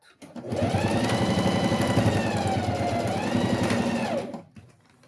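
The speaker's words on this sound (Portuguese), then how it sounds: "vamos fazer a primeira costura para o lado direito" A sewing machine runs a steady, close whirring stitch along the first seam of a zipper pouch, starting up, humming continuously for about four seconds, then winding down.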